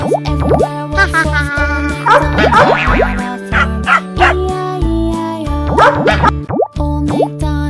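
A cartoon dog barks in the children's farm song Old MacDonald Had a Farm, short woof sounds in rhythm with a bouncy sung melody and accompaniment, loud and upfront.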